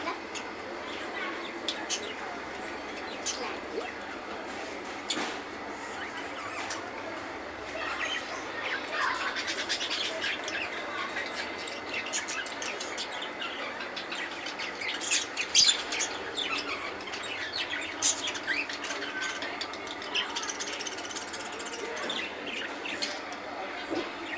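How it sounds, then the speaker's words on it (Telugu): Birds of different colours chirp and squawk in short, scattered calls over a steady background hiss, moderately faint and continuing throughout. "ఈడైతే బర్డ్స్ ఉన్నాయండి, డిఫరెంట్ కలర్స్ బర్డ్స్"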